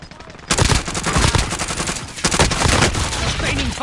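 Loud, dense video game gunfire bursts out after a quieter half-second lead-in and keeps up as sustained automatic fire with rapid overlapping shots, briefly dipping before resuming at full intensity.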